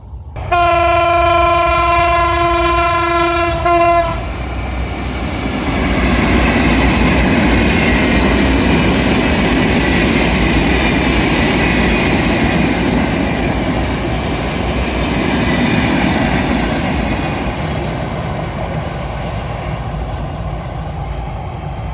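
Express train passing Shyampur at good speed in Bangladesh: a loud, sustained horn blast for about four seconds, followed by a close, roaring rush of wheels and carriages that swells and then slowly fades.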